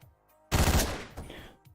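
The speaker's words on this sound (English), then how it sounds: "quiet gunshots made him not listen." A burst of gunfire from the Hotline Miami video game: one sharp, loud blast that decays over about a second, with quieter game sounds before and after and no talking.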